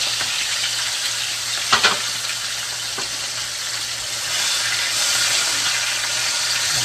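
Pork chops fry steadily in a pan, a continuous loud sizzle with a couple of brief clatters of a utensil and no talk, the crackle swelling slightly toward the end.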